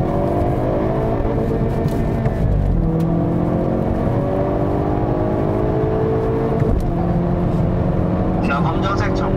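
A Hyundai Kona N accelerates hard along a race track straight, engine roaring and climbing through gears with brief shift dips, loud and continuous under an instructor's running commentary.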